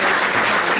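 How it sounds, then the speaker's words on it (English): Dense, loud audience applause at a comics anthology release party, a continuous wash of clapping with no pauses throughout the short burst. "Again, another round of applause for Jennifer Camper."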